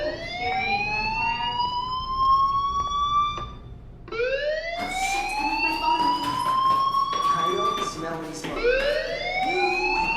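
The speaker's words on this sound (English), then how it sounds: "Hey, do you hear that fire alarm?" A fire alarm wails in a video game, its rising siren tone sweeping upward over and over, loud and continuous with background game noise underneath.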